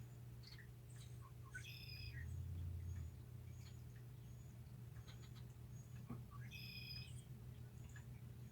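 Small wild birds chirp in short bright bursts in an outdoor area during spring, thought to be a breeding pair, heard at moderate distance over a steady low hum, with a couple of distinct call clusters.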